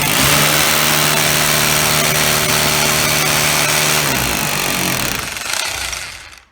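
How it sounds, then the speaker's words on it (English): A power drill bores into a solid wall in a loud, continuous, steady grinding whir with a rattling hammer-like texture, close up, stopping abruptly near the end. "Drill the hole to the appropriate depth for the size of screw you're using."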